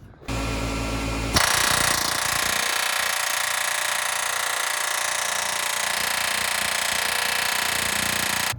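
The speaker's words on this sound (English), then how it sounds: "this air hammer's on roids" After a short mechanical start, a pneumatic air hammer rattles loudly and continuously in rapid, harsh bursts on a Chevrolet C10 pickup's exhaust and suspension work, close up and unbroken for several seconds.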